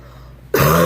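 A single short throat-clearing cough from a sick woman, close and abrupt after a quiet moment.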